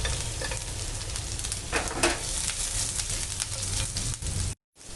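Cumin seeds, green chilies and garlic crackle and sizzle in hot mustard oil, a dense steady hiss with a few louder spits, close and fairly loud, then a sudden cut near the end.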